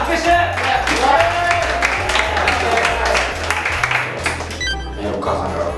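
A studio audience claps at a Japanese comedy quiz event as rankings are announced. The applause is a steady patter of many hands, mixed with voices and a low background hum.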